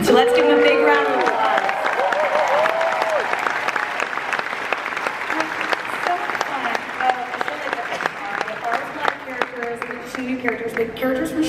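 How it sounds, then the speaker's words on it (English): A Comic Con crowd applauds the season 2 cast lineup of Legends of Tomorrow at a panel, sustained loud clapping with scattered cheers and a voice talking over it early on. "So let's give them a big round of applause."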